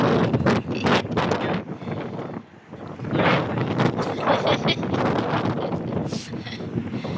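Gusty wind in Dublin, Ireland buffets the microphone in a loud, rough roar, easing briefly partway through before surging back.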